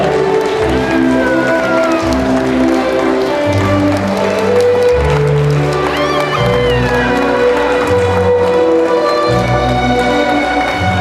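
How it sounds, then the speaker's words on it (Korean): Wedding guests at a church ceremony clap harder as the two mothers enter, a dense, continuous crowd applause under loud music with sustained tones, steady throughout. "조금 더 큰 박수 부탁드립니다"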